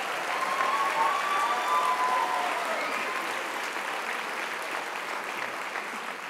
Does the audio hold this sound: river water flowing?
no